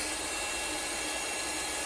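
Xiaomi Mi mini handheld cordless vacuum cleaner running at normal speed, a close, steady, high-pitched whir with a hissing airflow and no variation.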